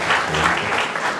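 An audience claps together at a covenant ceremony, a brief dense burst of applause, loud and close.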